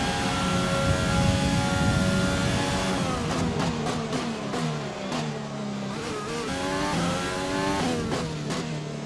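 Racing car engine from the F1 2020 video game on a qualifying lap, driven in My Team mode as a Jordan: a loud, continuous high-revving drone that rises and falls through gear shifts and corners, heard alone without talk.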